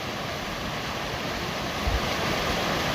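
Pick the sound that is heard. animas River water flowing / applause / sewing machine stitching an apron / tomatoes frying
animas River water flowing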